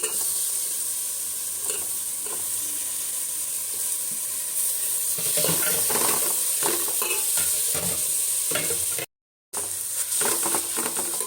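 Tomatoes sautéing with ginger garlic paste in a pan for mushroom biryani, a loud continuous sizzle with repeated spatula scrapes and stirs, close up and without voices.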